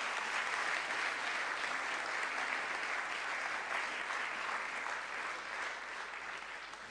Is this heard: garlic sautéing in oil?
no